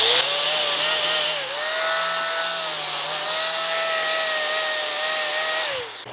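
Close, loud, continuous grinding while steel parts for horse feeders are bevelled before welding, a steady whine with a slight dip partway through before it winds down at the end.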